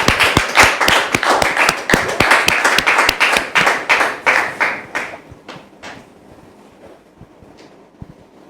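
A church congregation applauds with loud, close, rhythmic clapping in strong bursts that gradually thin into a few scattered claps before dying away.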